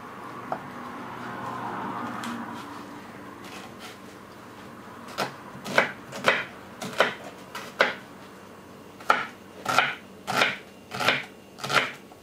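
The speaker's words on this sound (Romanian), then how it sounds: "tocăm ceapa mărunt" Rhythmic knife chops as an onion is finely chopped on a board, a steady run of sharp taps starting partway through after quieter handling noise, close and fairly loud.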